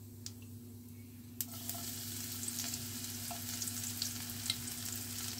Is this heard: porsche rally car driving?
no